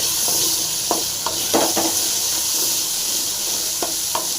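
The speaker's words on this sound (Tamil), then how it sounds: "இஞ்சி மிளகு ஜீரகம் சேர்த்துடலாம் ஃப்ரை ஆகட்டும் கூடவே முள்ளங்கி போட்டுடலாம் நல்லா ஃப்ரை ஆகட்டும்" Ginger, pepper, cumin and radish frying in a pan with a steady, close hiss of sizzling oil, broken by a few soft scrapes of a spoon stirring the mixture.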